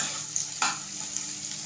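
Two hot chilies drop into onions already browned in a pan for anda bhurji. An even, hissing sizzle runs throughout and briefly flares louder as they land, with no talking.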